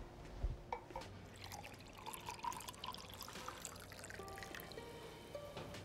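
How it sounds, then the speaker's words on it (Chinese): Water is poured into a vessel in a quiet room, a faint, close trickle and splash that runs steadily for several seconds. "再给恁加些水哈"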